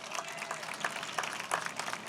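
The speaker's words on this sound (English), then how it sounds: "yes, you can clap for her" A live audience at a Times Square ivory crush event gives Kristen Davis a short burst of applause. The clapping is moderately loud and crowd-wide and lasts a couple of seconds.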